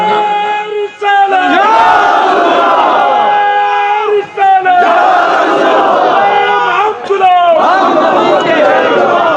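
A large crowd chants the religious slogan Ya Rasool Allah in loud, rhythmic unison at a sermon gathering, with voices swelling in repeated waves broken by brief pauses.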